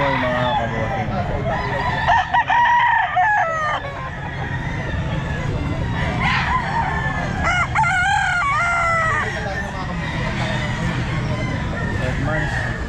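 Several roosters crow repeatedly at a busy pet market, their calls rising over a constant crowd murmur along with scattered clucking, with people talking nearby throughout.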